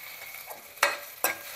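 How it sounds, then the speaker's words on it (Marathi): Chopped onion and fat frying in a pan, a low sizzle broken by three sharp bursts of stirring or tossing, close and short. "कांद्याबरोबर चरबी सुद्धा चांगली परतून घ्यायची."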